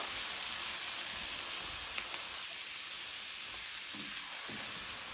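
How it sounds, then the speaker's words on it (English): Garlic paste sautéing in ghee in a pan as it is stirred: a soft, continuous sizzle with faint scraping strokes from the stirring, quiet and close, with no voices. "I'll let this saute for another 30 seconds, continuously stirring it."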